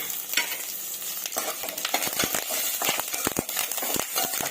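Curry leaves and carrot pieces fry in a pan with a bright, busy sizzle broken by repeated scraping stirs and spatters, close and fairly loud throughout.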